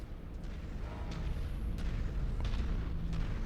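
A destroyed target's explosion in the MechWarrior 5 video game, a dull rumbling boom that builds and rolls on steadily, with faint crackles over a low heavy roar.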